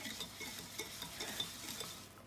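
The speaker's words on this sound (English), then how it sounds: "I'm going to put in some sugar and some melted coconut oil. And I'm going to whisk all of this" A whisk scrapes and clinks softly in a bowl, mixing sugar with melted coconut oil for a carrot cake batter, a quiet steady stirring rhythm heard close with no talking.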